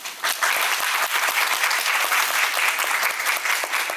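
Audience applause greeting actor Kim Jeong-su at a stage greeting for the musical Gwangyeom Sonata, a dense, steady clapping from a full house that holds evenly for about four seconds.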